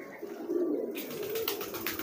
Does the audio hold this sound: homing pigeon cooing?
yes